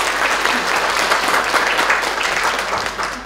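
Audience applause welcoming a county governor at an indoor health event, a dense burst of many hands clapping steadily for a few seconds before easing off slightly at the end.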